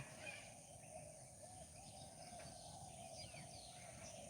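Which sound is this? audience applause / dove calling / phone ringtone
dove calling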